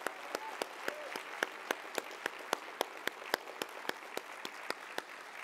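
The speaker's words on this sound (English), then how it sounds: "please give a nice round of applause for Andres Martinez." A luncheon audience at a STEM convention applauds, dense steady clapping from a crowd with a few sharp, near claps standing out in a regular beat throughout.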